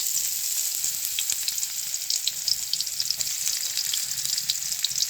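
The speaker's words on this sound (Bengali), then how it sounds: "পেঁয়াজ কুচিগুলো হালকা করে ভেজে নেব।" Chopped onions frying lightly in oil in a wok, a steady close crackling sizzle with scattered pops and occasional stirring, no voices.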